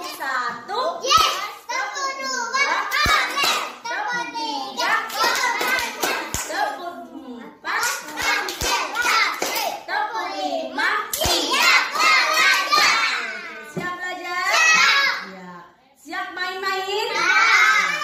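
Preschool children in an Indonesian PAUD class clap rhythmically in a concentration clap game, in sharp, close bursts of hand claps mixed with their chanting and an adult voice leading along.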